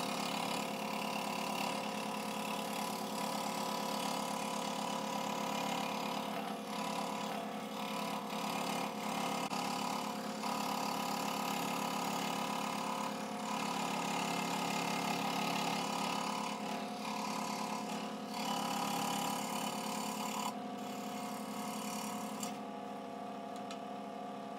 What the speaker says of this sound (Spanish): aquí ya vamos cortando la última pieza.